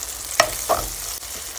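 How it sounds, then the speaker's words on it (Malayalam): Fried onions and green chillies with turmeric powder being stirred in a pan, two quick scraping strokes of a spoon over a low steady sizzle, close and brief. "ഇനി നമുക്കിതൊന്ന് ഇളക്കി കൊടുക്കാം"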